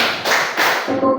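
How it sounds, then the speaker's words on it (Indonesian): A ninth-grade class at a school career-guidance session claps on cue: a few short, close, broad bursts of hand claps in quick succession, with no talking. "Tepuk satu, tepuk satu, tepuk satu, tepuk dua, tepuk dua"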